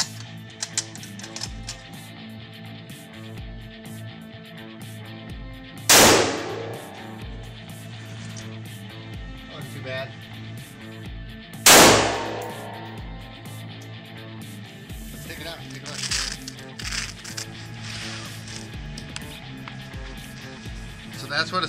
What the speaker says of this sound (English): First gun we're gonna shoot is a 223 with a full metal jacket round